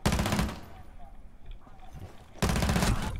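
Rapid automatic gunfire bursts from a round of Rainbow Six Siege, two loud dense volleys at start and end with quieter in-game ambience between, close and sharp.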